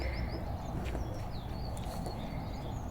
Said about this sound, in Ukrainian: А пташки як співають, ма, як весна. Ти чуєш, як вони трізвонять?